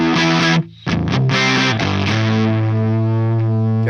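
Electric guitar played through a Fender amp with treble and presence boosted, distorted chords ringing out loud and sustained after a brief pause, with heavy saturation and a thick, buzzy tone.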